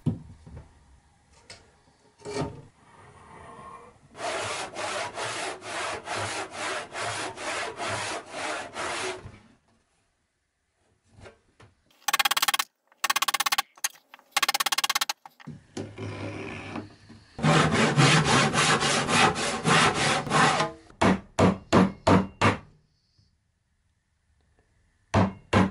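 Hand saw cutting wood for half-lap joints on workbench legs, with long runs of steady back-and-forth rhythmic strokes, close and loud, broken by pauses and a few short separate scrapes.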